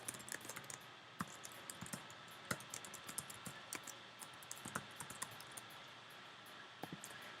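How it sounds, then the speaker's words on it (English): A username and password typed on a computer keyboard, light scattered key taps and clicks at an uneven pace over a quiet room hum, with no talking. "They're going to type in their username and their password."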